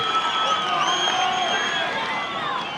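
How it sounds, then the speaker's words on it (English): A boxing crowd at the Holm vs St John bout cheers and whoops loudly and steadily through the last round, a dense roar of many voices close and sustained. "Last round, and Holly Holm throwing up her arms, getting the crowd involved."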